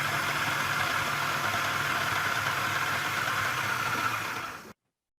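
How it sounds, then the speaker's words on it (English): A yam pounding machine fitted with its original black blades runs steadily, a constant mechanical hum and rumble with slight vibration for several seconds before cutting off abruptly. No one speaks. "for the first test, we have the original blades that came with the yam pounding machine"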